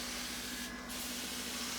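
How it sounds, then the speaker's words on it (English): Febreze air freshener sprayed over bed sheets gives a steady, close aerosol hiss for about two seconds, with one brief dip partway through and no talking. "all I'm going to do is just spray it all over the bed"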